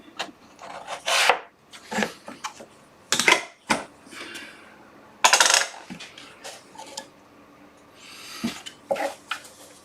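Wooden piece for a dovetailed tray with compound angles being cut, close and loud rasping strokes in irregular bursts, with brief clacks of wood between them and no talking.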